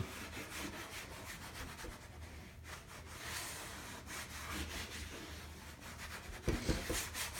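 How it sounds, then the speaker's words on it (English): Paper towel or cloth rubbing Windex onto a vinyl graphic: steady, close scrubbing and wiping strokes in a continuous rhythm, with a brief louder bump near the end. "Basically just rub in the Windex."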